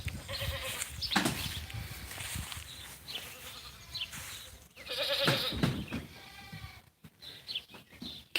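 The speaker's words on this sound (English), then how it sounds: "Can you guys hear the goats," Goats bleat repeatedly outdoors, several overlapping wavering calls rising and falling over continuous background noise, fairly close and loud, with no clear talk.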